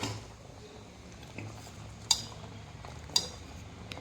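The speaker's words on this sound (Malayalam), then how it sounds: "അപ്പോൾ അതൊന്നുകൂടെ നമുക്കൊന്ന് ഇളക്കി കൊടുക്കാം" A spoon stirs sambar in a cooking pot, giving soft scraping and a few sharp metallic clinks against the pot's rim, quiet and close, with no talking.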